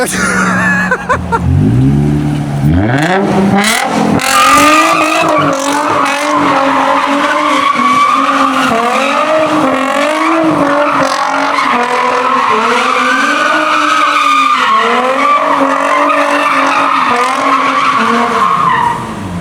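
Nissan 350Z drifting in a circle, tires squealing in a long, loud, continuous skid with the engine revving and pitch wavering throughout, heard up close.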